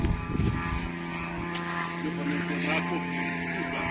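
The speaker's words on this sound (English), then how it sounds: "We did get to hear the sound of a Ukrainian drone motor flying over a small village within the Bryansk Oblast" Ukrainian drone motor droning over a small village in Russia's Bryansk Oblast, a steady buzzing engine tone with a mains-like hum, moderately loud and continuous, with voices speaking over it.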